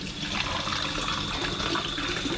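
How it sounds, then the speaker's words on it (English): Water runs from a tap into a container in a kitchen while baking, a steady, even hiss and splash for a couple of seconds, quiet and close by. "Put some water in there."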